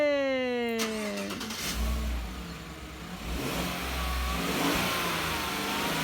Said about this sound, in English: Matthew, start your engine!